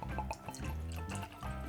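Maker's Mark bourbon poured into glasses, a short close trickle of liquid with bright splashing drips as the glass fills, fairly quiet and with no talking.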